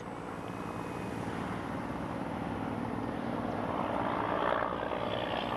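An X-Fly Spitfire RC model plane's engine drones steadily at takeoff, a buzzing propeller hum that swells slightly louder toward the end, with no voices.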